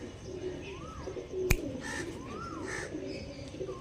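Andhra pigeons coo in soft, rising-and-falling low calls close by, repeated several times, with one sharp click cutting in partway through.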